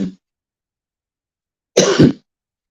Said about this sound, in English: No, it's just regular coughing, man.